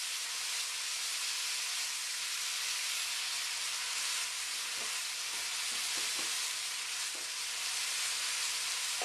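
Vegetables sautéing in a pan with toasted garlic for chicken cacciatore, giving a steady, close sizzle with light scraping and stirring taps toward the end and no talking.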